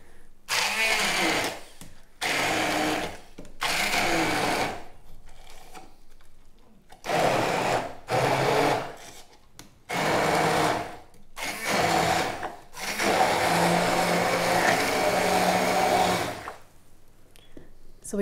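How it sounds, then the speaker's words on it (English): A hand blender whirs in repeated bursts as it blends tomatoes, onion and green chilies, each pulse several seconds long and separated by brief pauses, loud and close with no talk. "onions and green chilies and blend them with a hand blender"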